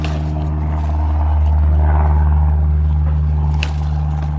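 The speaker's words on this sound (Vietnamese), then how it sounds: "Tưởng tượng bây giờ tiếng máy bay là tiếng nhạc để các bạn nghe đỡ đi." An airplane drones overhead above a vegetable garden, a loud, continuous low engine hum that swells slightly and then holds steady, with no one speaking.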